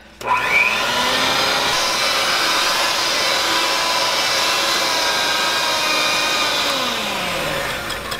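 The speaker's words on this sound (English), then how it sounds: "we're gonna take your mixer and we're gonna blend this right up." An electric hand mixer whirs up, blending instant pudding and heavy cream, then runs as a loud, steady motor whine with slight pitch shifts as it works the mixture. It winds down near the end, with no speech.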